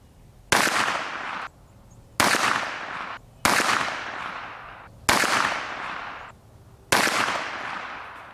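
A Noveske Space Invader pistol caliber carbine fires five shots at a 25-meter range, each crack loud and close with a short echoing tail, spaced roughly one and a half seconds apart.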